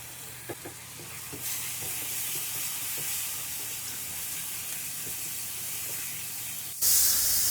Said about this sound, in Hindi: अब हम इसको तब तक भूनेंगे जब तक ये टमाटर एकदम सॉफ्ट ना हो जाए।